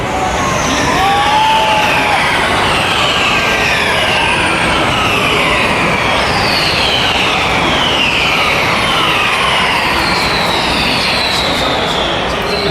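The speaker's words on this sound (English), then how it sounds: "here they come round the corner down the straight again." Race cars sweep round a corner and down the straight, a continuous loud roar of several engines with rising and falling pitch as they pass, with no talk over it.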